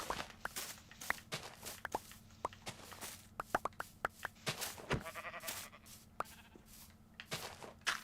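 Sheep in a Minecraft world bleat in short, scattered calls, mixed with crisp blocky footsteps and soft plops from building or digging, all close and fairly quiet.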